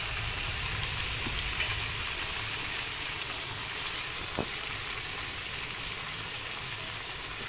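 Chicken aloo curry frying steadily in a pan, a continuous soft sizzle with a couple of faint clinks of stirring, no talk.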